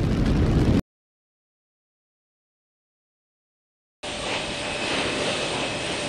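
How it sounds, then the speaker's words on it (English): A loud, steady rocket roar of Space Shuttle Columbia's engines at liftoff fills the air, a broad rumbling wash that cuts out abruptly, falls silent for a few seconds, then returns just as strong. "liftoff of Space Shuttle Columbia"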